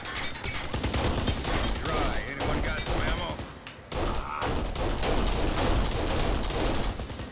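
Dense, continuous automatic gunfire from the Kane and Lynch video game, a loud chaotic firefight with overlapping bursts and impacts that run nearly the whole stretch, with a brief dip partway through.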